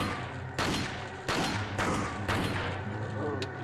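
Handgun shots in Resident Evil 4 aimed at shielded enemies from a distance, three sharp, echoing reports spaced roughly a second apart, followed by a fainter fourth crack, with game ambience and a voice talking underneath.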